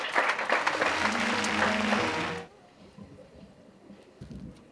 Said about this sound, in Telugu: ఒకసారి మన గట్టి గట్టి చప్పట్లతో జనార్దన మహర్షి గారిని వేదికపై కాస్తున్నాం.